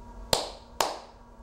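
Two crisp, sharp hand claps about half a second apart marking the two syllables of the word giraffe, close and clear in a quiet room.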